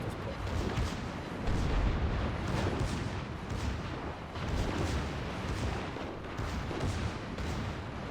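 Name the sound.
West Virginia 44 battleship secondary guns firing, naval video game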